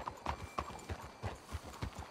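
Horses' hooves clip-clop in a steady, even rhythm in Red Dead Redemption 2. The sound is fairly quiet against a soft outdoor ambience.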